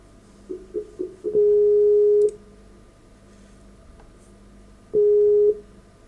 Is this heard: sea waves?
no